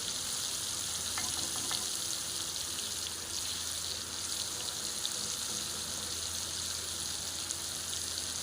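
Garlic ginger paste frying on a hot tawa for spicy mutton liver at a Karachi street food stall, a steady soft sizzle with faint crackles and a couple of light clicks, no voices.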